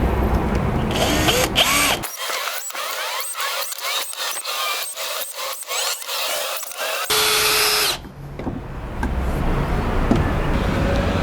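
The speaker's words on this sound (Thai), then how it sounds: "แล้วก็เราก็จะเจาะรูไว้ บนผนังของไม้นะครับทั้ง 4 ด้าน" A power drill whines loudly in short bursts, revving and stopping while boring holes in the wood of a DIY bar stool, over a busy background of traffic noise, with one longer steady run near the end.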